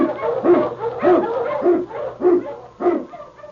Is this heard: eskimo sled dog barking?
yes